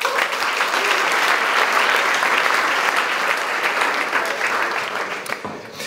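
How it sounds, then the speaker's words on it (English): Sustained audience applause for a generative design talk, a dense, even wash of many hands clapping from start to finish, easing slightly in the final second. "So please give us a round of applause for Tim as well."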